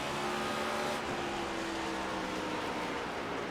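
Stock cars lapping Bristol Motor Speedway in a racing video game roar steadily in a dense, continuous engine drone as lapped traffic passes, with no voices.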